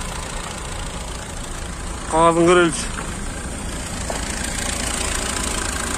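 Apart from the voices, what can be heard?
used car engine idling at a car market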